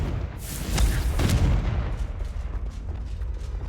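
A Confringo blasting curse explodes in Hogwarts Legacy: two loud, close booming blasts in quick succession, then a rumbling, noisy tail that slowly fades.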